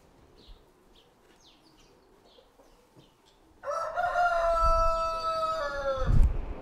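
Chickens in a huge chicken farm shed holding tens of thousands of birds, faint clucks at first, then a loud close rooster crow rising over the flock.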